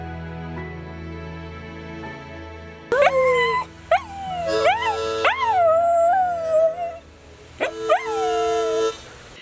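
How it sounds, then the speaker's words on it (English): Desi the dog howls along to a song, starting with a loud rising howl and following with several long, wavering, sung howls over soft music. "what kind of dog is Desi, and how did you teach him how to sing?"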